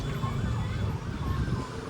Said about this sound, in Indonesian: itu terdengar sirine